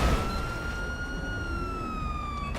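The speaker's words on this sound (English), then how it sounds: "I guess I could turn off the siren" A police siren on a Chevy Tahoe in GTA 5 wails steadily in a single sustained tone with a slight drift, loud and close, with no one speaking.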